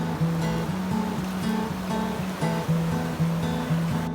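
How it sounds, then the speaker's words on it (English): Fast-moving stream water rushes over bedrock at a gold-prospecting site, a steady close wash with a faint repeating rhythmic pulse underneath. "Water's moving fast today."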